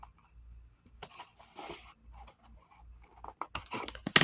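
Scissors snip through paper to cut out pieces for a small triple envelope pocket, a series of quiet crisp cuts and rustles at close range that grow denser toward the end.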